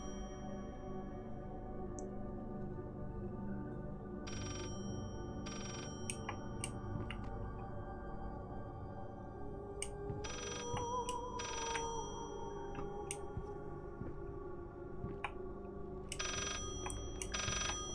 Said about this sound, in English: There's the ringing again. Not the phone.